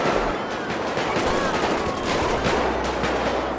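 Dense gunfire in GTA 5 during a police gang-unit patrol, with rapid overlapping shots and bursts fired from all directions, loud and continuous throughout, like a fusillade of automatic and single shots.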